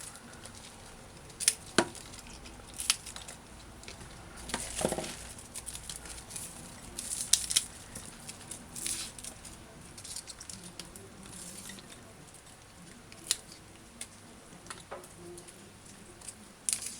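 Fresh scallion having its dead outer leaves pulled off by hand in a kitchen, giving faint scattered crisp snaps and rustles with quiet gaps, no voices.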